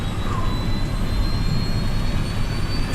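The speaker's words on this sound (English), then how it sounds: "Captain Soleil is taking the steps to fire up the second engine" A jet engine of TACA Flight 110 spools up as the second engine is started, a steady roaring whine over a deep rumble, loud and continuous with no talking.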